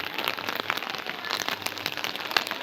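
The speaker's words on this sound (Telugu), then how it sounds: "వర్షం మస్తు పడుతుంది ఈరోజు" Heavy rain pours down, a dense close patter of drops striking a surface with scattered sharper splats, loud and continuous without any talking.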